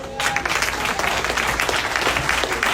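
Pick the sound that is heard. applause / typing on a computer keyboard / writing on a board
applause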